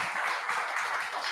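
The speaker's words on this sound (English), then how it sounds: "Give him a big round of applause" Applause from a tech meetup audience as a TypeScript speaker named Jake is welcomed, a steady wash of many hands clapping at moderate distance, continuous and fairly soft throughout.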